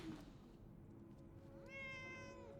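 A cat meows in the video game Fallout 4, one drawn-out, rising cry that sits close and clear over a faint steady background hum.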